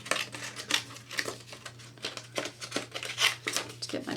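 Scissors snip away paper for a handmade card, a quick run of close, crisp cuts in a steady rhythm.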